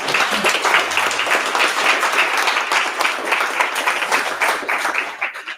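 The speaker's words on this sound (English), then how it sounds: "Big round of applause for Jeff, everyone." Audience applause at a tech demo night event in Cornwall, a dense, steady wash of many hands clapping that fills the room for several seconds before starting to thin near the end.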